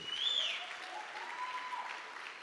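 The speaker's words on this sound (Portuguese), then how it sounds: "Uma salva de palmas para vocês" Audience applause from a seated crowd at a Portuguese-language motivational talk, a dense steady wash of clapping that holds at an even level throughout with a faint tonal whistle early on.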